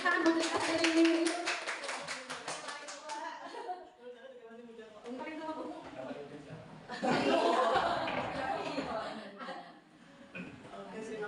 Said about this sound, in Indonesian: Tepuk tangan buat kita sendiri.